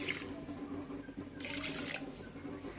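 Water poured into a pan of curry to make the gravy, a steady close splashing stream like a running tap, quiet, with no talking.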